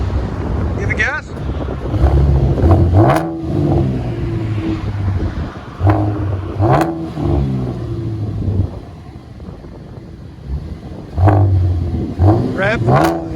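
Chevy Camaro 3.6L V6 with an aftermarket exhaust revving in repeated throttle blips, each rising to a loud bark and falling back to idle, close by with some wind noise and brief talk.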